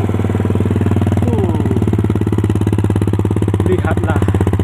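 A Benelli 150S motorcycle engine with a cut exhaust idles loudly and steadily, its rapid, even thumping pulses filling the whole clip.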